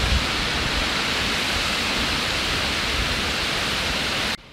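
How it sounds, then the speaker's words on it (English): Water pouring over a dam on a winter hike, a loud, steady broadband roar held close and constant until it cuts off abruptly near the end. "It's a dam, a water dam."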